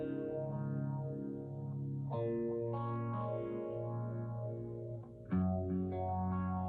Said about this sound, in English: It's got like a bit of a phaser swirl.